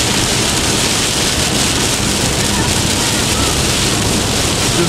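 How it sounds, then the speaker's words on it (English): Heavy rain pounds a car windscreen while driving north of Newcastle, a loud, dense, unbroken hiss of drops that fills the whole stretch. "North of Newcastle, and it's raining really hard."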